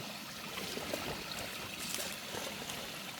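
Water flowing over a small waterfall in a forest stream, a steady broadband rush and splash that stays even and close throughout, with no voices.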